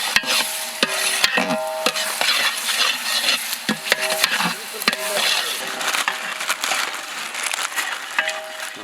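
Ginger and garlic frying with onions in a pan, bright crackling sizzle with repeated sharp scraping and stirring knocks from a spatula, loud and close, no speech.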